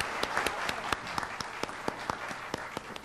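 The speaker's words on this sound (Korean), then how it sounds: "여러분 박수로 서로 격려해 주시기 바랍니다." Audience applause at a university entrance ceremony, a steady, moderately distant patter of many hands clapping, with individual sharp claps standing out above the wash.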